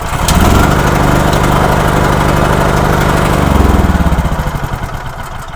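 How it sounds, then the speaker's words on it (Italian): A car engine with its battery removed and replaced by supercapacitors cranks and catches, running loud and steady for a few seconds before the rhythmic pulsing winds down and fades toward the end. "ma continua ad accendere il motore"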